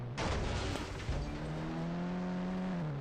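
A vehicle rolls slowly along in a 3D driving video game, its engine giving off a steady, close, continuous hum with a whining tone that shifts pitch partway through.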